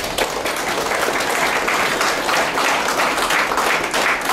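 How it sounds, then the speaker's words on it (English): A room of participants claps steadily for several seconds after a corporate meditation session, a dense, even patter of many hands with no talk over it. "Give a big clap for our meditation."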